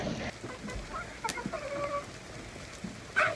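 Chickens on their coop balcony cluck softly and intermittently at a distance, with scattered short calls over a quiet outdoor background.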